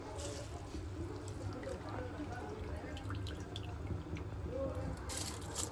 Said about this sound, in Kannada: ಇವಾಗ ನಾವು ತೊಳೆದು ಇಟ್ಕೊಂಡಿರೋಂಥ ಅಕ್ಕಿನ ಹಾಕ್ಕೊಳ್ತೀನಿ